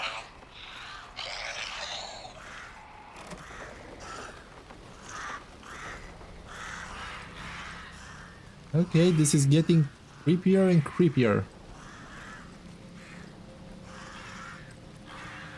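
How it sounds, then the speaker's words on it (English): Crows in the game Atomfall give a few harsh, raspy caws in two loud bursts midway, over quiet ambient background, with someone talking before and after. "Leave me alone, you crows."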